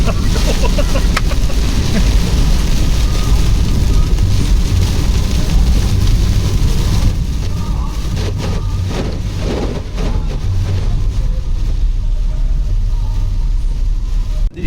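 Rain drumming on a vehicle during a mountain road trip through Pabbar Valley, heard from inside as a loud, dense wash blended with engine rumble and wind, steady throughout with a slight drop midway.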